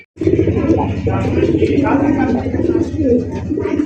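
Fancy pigeons offered for sale coo in a continuous, loud, close chorus while people talk over them.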